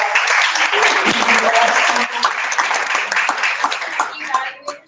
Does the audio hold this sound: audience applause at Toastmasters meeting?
yes